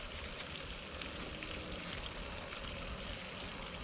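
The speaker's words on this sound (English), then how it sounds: "Let them sizzle for a bit and then whack the bacon in." Dense, steady sizzling of sausages and bacon frying in a hot pan while camping, a constant crackling hiss with no talking.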